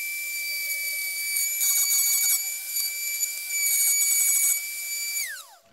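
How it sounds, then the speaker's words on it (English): A Dremel rotary tool fitted with a spiral cutter on a plunge base carves fine detail lines into a wooden sign, a steady high whine with rougher cutting bursts, then spinning down at the end. "we've got the Dremel on the new plunge base again."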